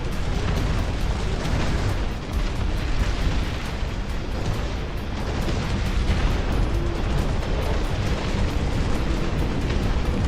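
Artillery shells splash down and explode in They Are Trillions, a dense, continuous rumble of booming blasts and crackling bursts that stays loud for the whole stretch, with no talking.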